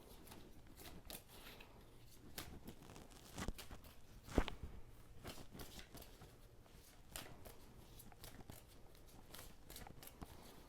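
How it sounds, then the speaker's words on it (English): Quiet riffling and soft papery slaps of tarot cards being shuffled by hand, with a sharper snap partway through and faint rustling around it. "One more shuffle."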